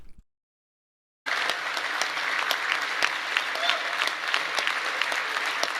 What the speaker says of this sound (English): I'm in a room full of sycophants and they're all cheering me